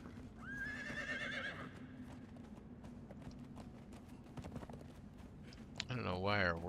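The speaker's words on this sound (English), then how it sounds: "I don't know why our horse is getting so upset." A video game horse gives a sharp neigh near the start and a louder whinny at the end, with steady hoof clip-clops and game sound running throughout and a voice talking over it.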